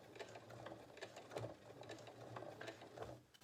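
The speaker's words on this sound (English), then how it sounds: "The other way is to sew straight through the top" Sewing machine stitching a French seam straight through fabric on a Mors bag, a faint, rapid mechanical chatter of needle strokes running steadily throughout.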